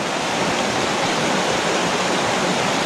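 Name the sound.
flowing creek water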